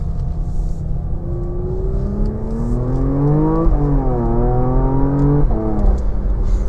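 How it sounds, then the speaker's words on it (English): Porsche Macan GTS compact SUV accelerating hard, engine note climbing steadily then dropping at a gear shift and rising again, a second quick shift near the end, heard from inside the cabin. "the Macan GTS will do 0 to 60 in 5 seconds flat"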